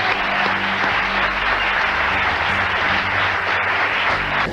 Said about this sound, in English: John Belushi, big round of applause.